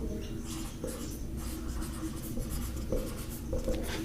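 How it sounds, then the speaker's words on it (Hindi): Pen writing a maths answer during a decision theory lesson, continuous close scratching strokes with small taps and pauses, steady and moderately quiet, without talk. "तो यहां पे मैं लिख देता हूं,"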